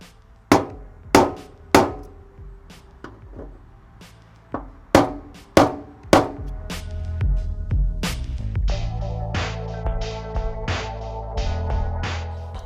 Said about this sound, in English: now that we've got those marked with that center punch